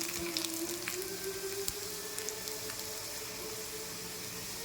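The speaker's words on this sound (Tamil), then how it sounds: "இப்போது வெங்காயம் ப்ரௌன் ஆயிடுச்சு" Onions frying in a pan until brown for coconut chutney, giving a steady, even sizzle with a faint hum beneath and a few soft clicks, close by and fairly quiet.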